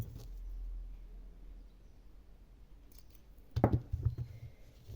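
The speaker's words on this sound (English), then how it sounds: "then I'm going to cut my yarn." Scissors snip through crochet yarn at the finish of a granny square hat, a short burst of close, crisp cutting clicks near the end after a quiet stretch.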